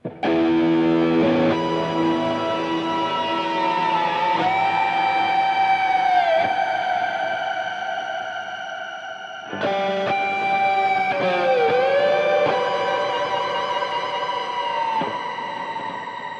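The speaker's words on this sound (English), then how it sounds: "So this starts with a huge reverb, and there's like this tingling high pitch thing underneath." Electric guitar run through an Eventide H9 with huge reverb, sustained notes bending and sliding over a tingling high-pitched shimmer underneath, loud and continuous in two phrases with long washing trails.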